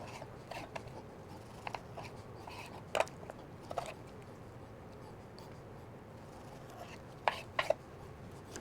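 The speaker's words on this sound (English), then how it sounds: "I'm going to cut these in a manner which makes it easy to remove that skin." A very sharp knife slicing through pork belly on a board, sparse quiet cuts with a few sharper taps and knocks against the surface.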